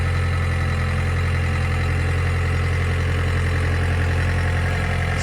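A digger's diesel engine runs steadily and close, a loud continuous low throb with a rhythmic mechanical rattle as the machine drives.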